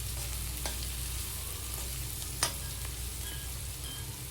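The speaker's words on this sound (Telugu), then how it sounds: "దీంట్లో సాల్టు, అలానే పసుపు వేసుకుని ఒకసారి కలిపేసుకోవాలి." Fried moong dal is stirred with salt and turmeric in a pan, giving a steady, close sizzle with a few light scrapes and taps of the spoon and no talking.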